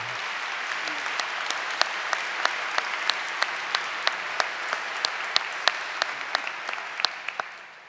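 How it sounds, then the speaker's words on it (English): Audience applause at a university president's convocation, a sustained crowd clapping with dense overlapping hand claps and occasional sharper individual claps, steady for several seconds before tapering at the end. "could you please rise for a round of applause?"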